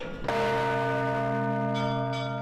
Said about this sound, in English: These bells ring daily over Lviv, not just for prayer